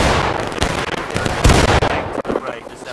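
Scattered musket volleys crack repeatedly through a Civil War battle in War of Rights, sharp overlapping shots near and far forming a dense, continuous barrage while a voice talks over the gunfire.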